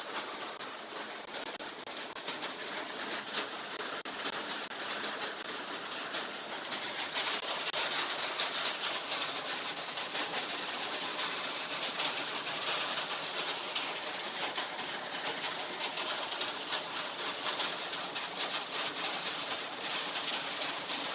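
Heavy monsoon-style rain pouring steadily outside a home, a dense, even hiss that swells slightly louder partway through and continues without a break, with no voices over it.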